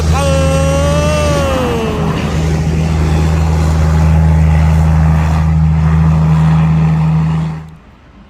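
Scania ten-wheel trucks towing trailers labour up a hill with a loud, steady diesel drone and a deep, constant engine hum, briefly rising in pitch early on, then fading away near the end.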